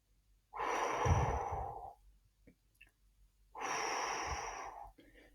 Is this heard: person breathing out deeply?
yes